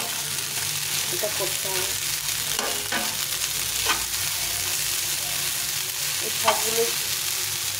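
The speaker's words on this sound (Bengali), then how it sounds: "প্রথমে আমি টমেটোটা দিয়ে দেবো।" Tomatoes hit a hot pan and fry with a steady, close sizzle, broken by occasional scraping stirs as someone talks briefly over it.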